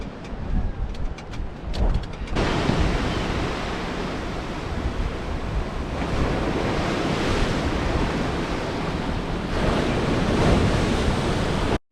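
Strong wind buffets the microphone while Gulf waves surge at the end of a fishing pier in Alabama, a loud, continuous roar with swells rising and falling, preceded by a few brief knocks.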